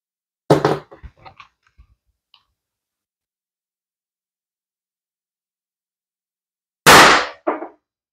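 An HDP50 gun running on HPA fires two 2.6 g rubber-steel balls several seconds apart, each a sharp loud crack with a short clattering tail of small ticks and bounces.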